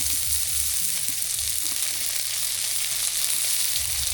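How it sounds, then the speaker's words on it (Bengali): Onions and chilies fry in hot oil, giving a constant bright crackling sizzle close to the pan, loud and even throughout with faint low clatter beneath. "পেঁয়াজ মরিচ ভাজা নি,"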